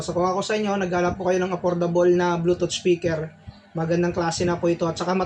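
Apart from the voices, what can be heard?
No everyday noise stands out behind the speech.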